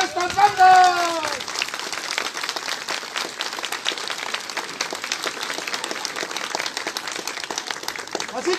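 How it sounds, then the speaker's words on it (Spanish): An outdoor crowd at a village fair applauds the brass bands, a dense, sustained patter of clapping that runs steadily for several seconds, with an announcer's voice briefly over the start. "un aplauso para estas bandas"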